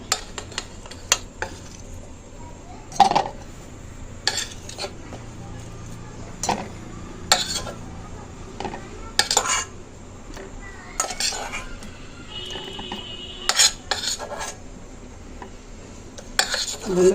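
Hilsa fish pieces being worked into spice paste in a bowl by hand, giving a close series of scattered clinks, taps and wet scraping knocks against the bowl at an uneven pace, with no talk.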